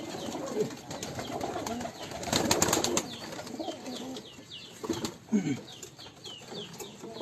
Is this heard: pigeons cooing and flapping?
yes